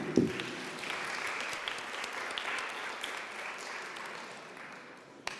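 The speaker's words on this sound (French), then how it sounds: "Ben merci, on peut l'applaudir." A crowd applauds steadily for several seconds, a dense patter of clapping that slowly fades toward the end.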